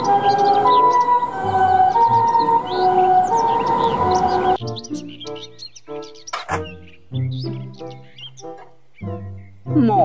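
A toy ambulance siren wails in a steady electronic two-tone pattern, then gives way to short chirpy toy sound effects and beeps.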